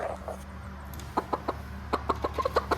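A hen on a farm clucking in a quick run of short, close, distinct clucks, spaced irregularly, over a low steady background hum, with no talking.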